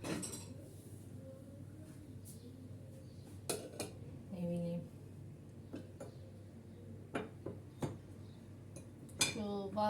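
Quiet clinks and clatters of cutlery and dishes being washed by hand, scattered irregular knocks against a low background hum, with a few faint vocal sounds.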